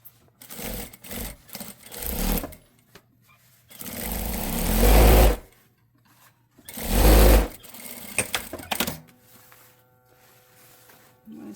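A sewing machine stitches a blouse seam in several separate bursts of buzzing, rattling stitching, the longer runs loud and close, separated by quiet pauses and small handling noises.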